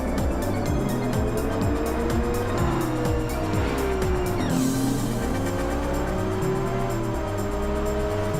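A race car drives with a steady engine drone and rising, sliding tire squeals that sweep up and down across the passage, loud and continuous, with no voices over it.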